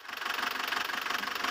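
Isuzu Crosswind engine running after its oil leaks were repaired, a steady close idle with an even, rapid ticking pulse throughout.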